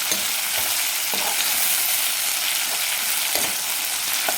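Prawn fried rice sizzles steadily in a hot pan while a utensil stirs and scrapes through it with periodic soft knocks, a close, continuous frying hiss without talking.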